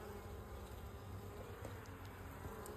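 Honeybees buzz steadily around a newly started hive, a close, dense, continuous drone that fills the scene without a break and with no voices.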